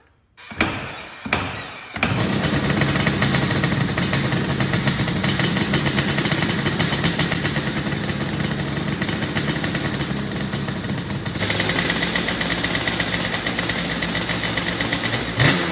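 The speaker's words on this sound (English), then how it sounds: "we're going to do a little sound test on the 96 Yamaha Banshee" A 1996 Yamaha Banshee with FMF silencers starts with a few short bursts, then settles into a loud, steady, raspy two-stroke idle that runs continuously and close by.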